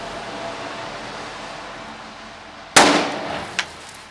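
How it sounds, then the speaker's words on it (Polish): After a few seconds of quiet outdoor background at a New Year's Eve fireworks session, a powerful firecracker bursts with one sharp, loud bang, followed by a ringing tail and a smaller pop shortly after. "To by była najmocniejsza petarda dzisiejszego dnia."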